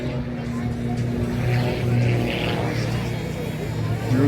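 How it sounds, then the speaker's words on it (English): A vintage World War II propeller plane at the MCAS Cherry Point air show gives off a steady engine drone with harmonic hum, moderately loud and continuous, under crowd noise. "I love to look at these old planes from the World War II."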